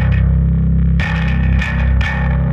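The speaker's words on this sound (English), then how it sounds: "I got this one string pickup that goes through my crazy bass rig right here" An ESP guitar converted to bass feeds a one-string pickup into a heavy bass rig, giving a thick, distorted low drone. Three or four hard re-struck attacks punch through near the end, loud and close.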